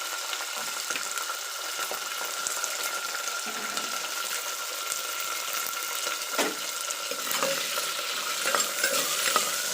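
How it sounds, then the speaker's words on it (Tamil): Whole small onions and curry leaves sauté in hot oil for a curry leaf gravy, giving a steady broadband sizzle with scattered scrapes of a stirring spoon throughout. "வெங்காயம் நல்லா இதிலே வதக்கிக்கலாம்"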